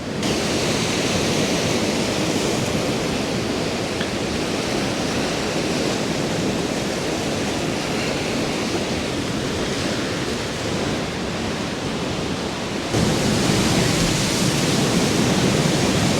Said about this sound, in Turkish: rüzgarlı denize epey dalgalı. Dalgalar yani bulunduğumuz yere kadar geliyor.